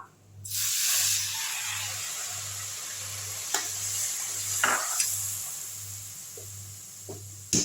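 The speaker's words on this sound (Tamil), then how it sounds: "இந்த புளி தண்ணியை தூக்கி இதில் ஊற்றிடலாம்" Tamarind water hits a hot pan with a sudden loud hiss that settles into steady sizzling, with a few soft clinks of stirring, while making gooseberry pickle.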